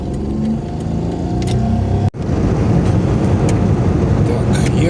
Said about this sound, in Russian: Так, еду по трассе.